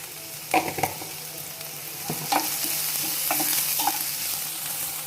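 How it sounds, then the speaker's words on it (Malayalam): Masala for the Mangalorean dish chicken pulimunchi is sautéed with salt in a pan: a quiet, steady sizzle punctuated by several distinct spatula scrapes and stirs at close range. "ഇനി ഇത് നന്നായി ഒന്ന് വഴറ്റുക."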